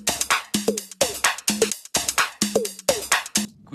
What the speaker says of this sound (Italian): A questo loop di groove ne ho aggiunto un altro che è un po' più sulle percussioni e meno sulle drums